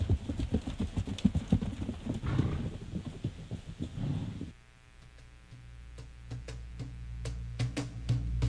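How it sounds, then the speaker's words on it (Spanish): Peruvian Paso horses clip-clop on hard ground in Trujillo, their rapid hoofbeats loud and close at first. The beats then thin into sparser, sharper knocks over a low background tone. "Y apreciar el caracoleo de sus caballos de paso."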